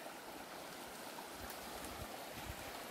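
A river flows with a steady, broad rushing wash of water, fairly faint and continuous throughout, with no voices.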